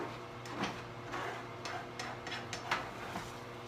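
Fork scraping and clinking against a hot pan while egg and cheese are stirred together, a series of light metallic taps and scrapes over a steady sizzling background hiss, close and moderately quiet.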